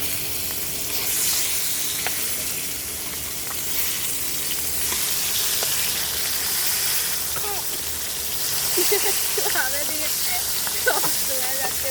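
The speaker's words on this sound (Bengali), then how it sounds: "মাছ একদিকে ভাজা শেষ" Fish sizzles and crackles in hot oil in a pan, a steady frying hiss with scattered pops, while people talk nearby over the sound.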